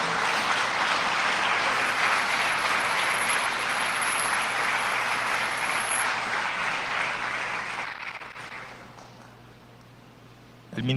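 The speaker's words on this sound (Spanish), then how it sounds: "¿Cuántos pueden darle un aplauso," A Spanish-speaking church congregation applauds in praise of its pastors' ministry, a full, steady wash of clapping for about eight seconds that then thins out and fades, with a low hum underneath.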